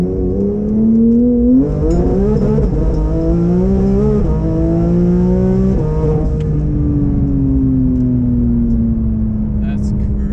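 A Porsche GT3 RS with a turbo, driven with traction control off, accelerates hard with a rising engine howl that climbs in pitch through several gear shifts, heard from inside the cabin under excited conversation.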